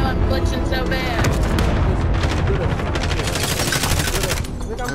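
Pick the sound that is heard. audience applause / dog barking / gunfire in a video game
gunfire in a video game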